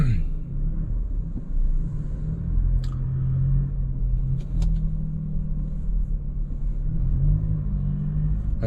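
Ford Ranger pickup with a 2.0 bi-turbo diesel engine cruising on a public road, a low steady rumble of engine and road noise from inside the cabin, with a few faint clicks over the drone.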